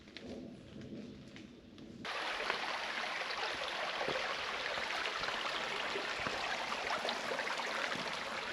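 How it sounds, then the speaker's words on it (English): Creek water flowing at a small trail crossing on the Appalachian Trail, a steady close broadband rush of running water that starts abruptly after a quieter moment and continues evenly throughout. "Little creek crossing."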